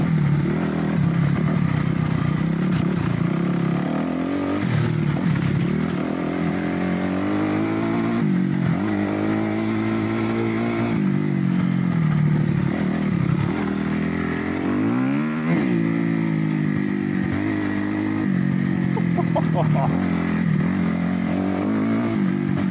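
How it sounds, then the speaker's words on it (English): A beginner's dirt bike ploughs through muddy puddle water, the engine revving and dropping repeatedly in loud close-up, with clattering and splashing under the steady motor drone and no talk. "Trying to get that front wheel up a bit through the pudgy water"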